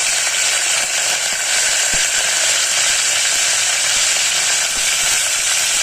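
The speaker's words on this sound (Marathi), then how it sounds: "नंतर आता कढीपत्ता टाकायचा कढीपत्त्याचा आवाज भरपूर होतो" Curry leaves dropped into hot oil in a pan with cumin and mustard seeds give off a loud, steady, hissing sizzle with small crackling pops, close and continuous throughout.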